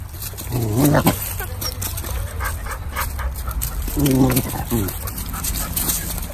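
Two dogs beginning to play indoors, with short whimpers, yips and soft vocal bursts over a steady low background rumble, loudest near the start and again around the middle.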